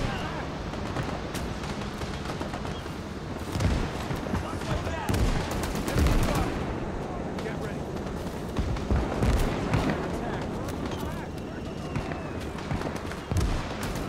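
Continuous battlefield gunfire in the Gates of Hell war game during a Cold War Marine Corps beach landing, with dense overlapping shots and heavier thumps under a steady roar of combat noise.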